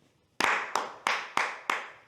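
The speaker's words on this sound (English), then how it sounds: "Clap test." Five sharp hand claps, evenly spaced and close, each snapping crisply with a short decay, used as a camera sync test in a quiet room.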